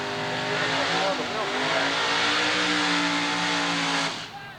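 Engine of a modified late model Camaro roars loudly at a drag strip, a sustained high-revving drone that holds steady for about four seconds before dropping away, with a faint voice underneath.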